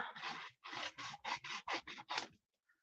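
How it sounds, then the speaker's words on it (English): Scissors snipping through paper up close, about eight quick rhythmic cuts in a row, crisp and fairly quiet, with no talk over them. "when you're cutting with a pair of scissors, again, you just want to turn your paper and keep your scissors still"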